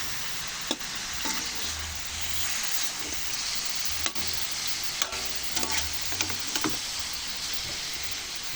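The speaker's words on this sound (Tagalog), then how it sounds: "Batin natin yung mga ricado na." Spices and aromatics frying in a pan under a steady sizzle, with a utensil scraping and clinking against the pan in irregular stirring strokes, heard close and alone.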